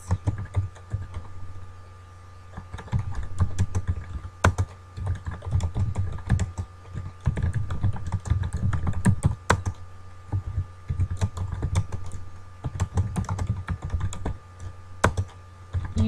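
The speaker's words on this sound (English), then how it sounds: "when you finish typing this" Someone types steadily on a computer keyboard, with quick close clicks in irregular bursts and short pauses between runs of keystrokes.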